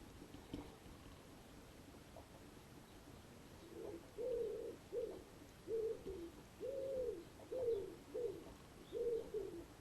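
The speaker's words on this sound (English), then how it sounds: "I'm sure you can hear the pigeons above me." Pigeons coo in a series of soft, rounded calls repeated at a steady rhythm from somewhere overhead, faint against a quiet background with no talking.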